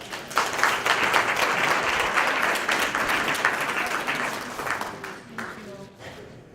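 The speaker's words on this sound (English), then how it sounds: "I want to give a round of applause for our presenter." An audience at a medical symposium on opioid abuse gives a presenter steady, full applause that fades over several seconds, with some voices underneath.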